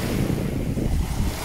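Waves breaking on the sandy shore of Avşa Island, a steady loud wash of surf with wind noise blowing across the microphone, no voices.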